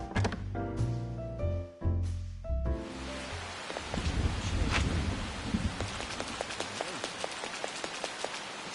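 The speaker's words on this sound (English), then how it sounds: "It's raining so hard." Heavy rain in the video game Persona 5 Royal, a dense, loud hiss of falling rain with scattered drops that builds in after a few sustained musical tones at the start.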